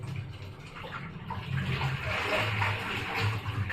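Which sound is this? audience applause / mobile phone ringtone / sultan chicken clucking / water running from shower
water running from shower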